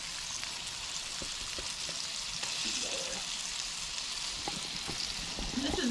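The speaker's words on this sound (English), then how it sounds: "We're just going to fry now." Steady sizzling of floured green tomatoes frying in a cast iron pan, a continuous close crackle with faint scattered pops and no talking.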